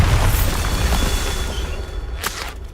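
A Bombarda spell explosion in Hogwarts Legacy: a loud, deep rumbling boom that decays over a couple of seconds, followed by a sharp crackling burst near the end.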